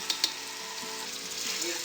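Spice masala frying in a pan for parboiled-rice beef biryani, a steady close sizzle with a couple of sharp clinks of a spoon near the start and no talking.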